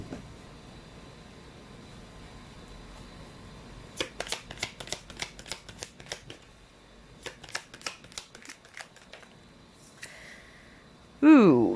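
A deck of cards is shuffled for a card reading, a rapid series of crisp, close riffling flicks in two bursts, the rest quiet room tone, ending with a brief sound near the end.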